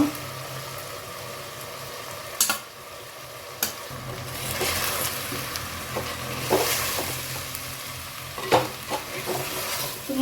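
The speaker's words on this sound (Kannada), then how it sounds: "ತುಂಬಾ ತಿರ್ಗಿಸ್ಬಾರ್ದು ಯಾಕಂದ್ರೆ ಅದು ಉಡಿ ಮೀನು ಜಾಗ್ರತೆಯಲ್ಲಿ ಮಿಕ್ಸ್ ಮಾಡಬೇಕು" Fried fish coated in ground masala being stirred in a pan for a fish sukka, scraping and clinking strokes with a soft sizzle, near and steady, several short louder knocks scattered through.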